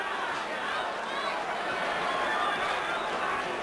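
A boxing crowd at the Mike Tyson versus Frank Bruno heavyweight bout chants Bruno's name, a dense, steady roar of many voices filling the arena without a break.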